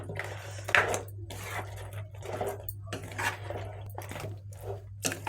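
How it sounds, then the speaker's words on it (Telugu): Potato and carrot Manchurian balls, already fried, are tossed and stirred in a pan, giving soft scraping, clinking and squishy sounds in bursts of stirring across a few seconds over a steady low hum. "ఫ్రై చేసి పెట్టుకున్న బాల్స్ను ఆలు క్యారెట్ మంచూరియా బాల్స్ను ఇందులో వేసుకుందాము ఇందులో వేసుకుని ఒకసారి బాగా కలుపుకుందాము"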